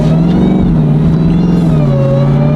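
A Dodge Durango Hellcat with an AWE Touring exhaust accelerates hard, a loud close engine roar rising steadily in pitch with supercharger whine layered over the exhaust note.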